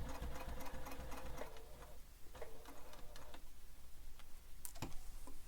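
A sewing machine backstitches across the bottom of bag hardware, a steady rapid ticking run of stitches that stops and restarts in short bursts, close and alone.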